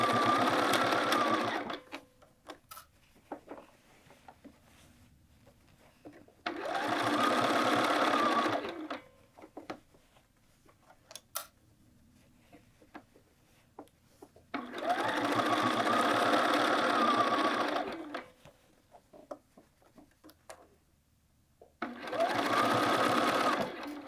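A sewing machine stitching a quilted jacket collar whirs in bursts of several seconds, alternating with quiet pauses in which someone speaks, close and clear.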